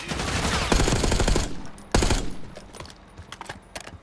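Machine gun fire in Call of Duty: Black Ops 6, rapid loud bursts of automatic gunshots up close, followed by a sharp single blast and then quieter scattered distant shots.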